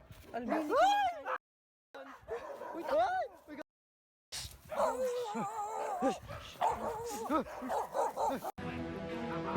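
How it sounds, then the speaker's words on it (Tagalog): A dog yelps and whines in high, rising barks, close by, with people talking over it and a few abrupt cuts of silence. "May aso."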